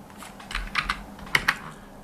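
Computer keyboard typing during tax accounting software data entry, a handful of crisp, close key clicks spaced unevenly over a quiet background with no talking.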